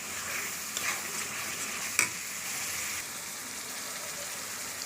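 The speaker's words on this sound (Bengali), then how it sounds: "এখন আমি এখানে দিয়ে দিব আস্ত রসুন 3 পিস, দিয়ে ভালো করে আবার একটু কষিয়ে নেব" Three whole garlic cloves and spices stir-fried in a pan for beef bhuna, a steady hissing sizzle with occasional stirring scrapes and one sharp utensil knock, close and even.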